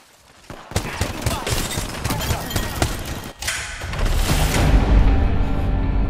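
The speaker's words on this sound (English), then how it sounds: "I am taking fire, friends." Heavy gunfire in the Apex Legends video game during a ranked arena match, dense overlapping shots and impacts filling the whole stretch, loud and close, swelling into a sustained roar of fire near the end.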